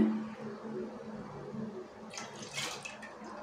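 Water poured into a pot of cooked moong dal for a payasam, a soft splashing pour rising near the end of the short clip over a low background hum.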